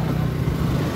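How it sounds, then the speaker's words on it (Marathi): A vehicle engine drones close by as it passes, a steady low rumble with a faint hum throughout the short moment. "आता गाडी पास चालली आहे"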